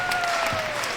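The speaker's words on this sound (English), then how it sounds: "You hear the crowd." A crowd at a Huntington Foresters women's basketball game against Grace cheers and applauds as a steady roar, running continuously under a commentator's voice.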